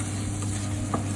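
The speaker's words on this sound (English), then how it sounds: "we'll just finish it off with lots of coriander and give it a quick toss" Prawn sukka is tossed with coriander in a hot pan, a brief, moderately loud sizzle with a soft stirring scrape, no voices.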